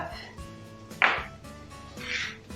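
A knife cuts a small piece of ginger on a cutting board with the tip kept on the board, two distinct close chopping strokes about a second apart in a quiet kitchen.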